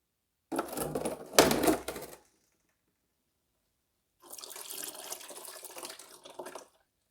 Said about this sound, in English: Let's drain the oil.